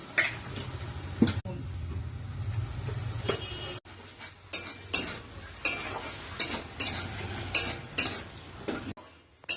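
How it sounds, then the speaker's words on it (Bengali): Green cabbage-leaf paste with turmeric fries in a pan on low gas, with soft sizzling under repeated sharp scrapes and clinks of a spatula stirring against the metal. "গ্যাসটা সিম করে ভাজতে হবে, একটু সময় লাগবে, যেহেতু কাঁচা পাতা বাটা"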